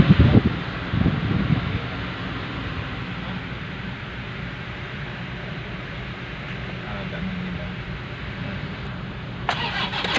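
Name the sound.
engine starting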